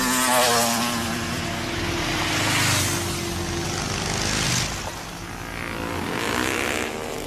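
A motorcycle engine in an action film scene, a steady droning rumble with swelling and fading passes, loud and close throughout, dipping slightly toward the end.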